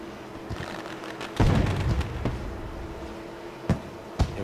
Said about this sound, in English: Fireworks are up for a 2-lap shootout.